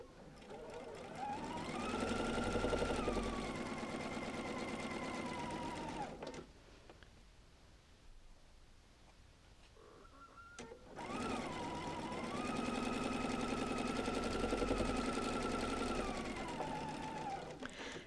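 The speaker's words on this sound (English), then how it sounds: "if you'll just take it and put it back in and now run a seam" Sewing machine stitching a straight seam through quilting fabric, a steady close mechanical whir running for several seconds, pausing in near silence, then starting again for another long even run.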